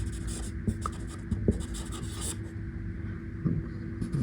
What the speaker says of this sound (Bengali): এখানে আরো দিয়ে লিখে দিচ্ছি তারপর বলছি